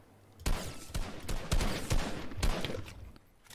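Gunshots in Fortnite, a string of sharp single cracks at uneven intervals, about six distinct reports, fairly close and loud against a quiet background.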